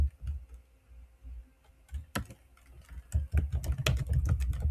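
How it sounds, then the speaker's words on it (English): Someone types on a computer keyboard in short irregular bursts of close, crisp key clicks, with pauses between runs and a denser flurry toward the end, with no voices. "oh I can type this out."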